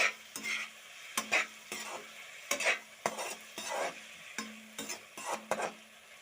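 Boiled potatoes and chillies being stirred in a pan for an Assamese egg curry, repeated scraping strokes of a spatula over a soft sizzle, close and fairly quiet.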